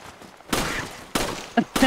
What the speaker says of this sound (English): I just hear gunshots.